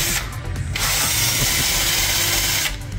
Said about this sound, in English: Give the calipers a bit of a buff up. Take a bit of rust off.